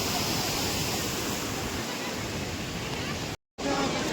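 A mountain river beside Gaurikund, flowing down from the Kedarnath peaks, gives a loud, steady rushing roar that fills the scene, broken only by a very brief dropout near the end.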